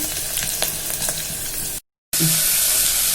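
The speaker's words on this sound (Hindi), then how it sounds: "ये देखिए मैंने प्याज मसाला भून दिया है।" Onion and spice masala frying in a pan for spicy pulao, with a steady broadband sizzle and stirring scrapes throughout, a brief cut of silence partway, and then the sizzle continuing loud and close.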